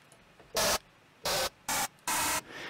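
Four harsh bursts of distorted, noisy synth tone from a UVI Falcon 2 software synthesizer distortion effect, each cutting off abruptly with short silences between, loud and gritty across the whole range.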